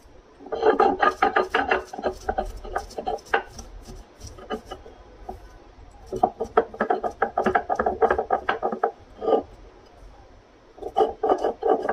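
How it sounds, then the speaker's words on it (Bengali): Dry peanuts ground on a traditional grinding stone, rapid rhythmic scraping and rubbing strokes in repeated bursts with short pauses, close and fairly clear. "বাদামটাকে আগে ভালো করে পিষে নেব"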